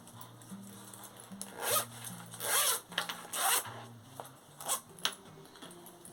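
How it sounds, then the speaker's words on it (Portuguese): A zipper runs open along a fabric document wallet, several close, raspy zip strokes of varying length over quiet background music. "E olha esse fechamento todinho com zíper."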